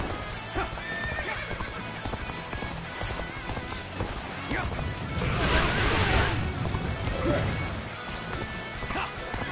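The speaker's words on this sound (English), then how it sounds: "I wanted to call my horse" Rapid hoofbeats of a galloping horse with a loud whinny partway through, amid game sound effects from Dynasty Warriors: Origins and a voice talking.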